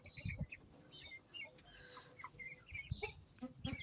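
Ispenç roosters and hens cluck in short bursts close by, some calls overlapping, with rustling and a few soft bumps in the background.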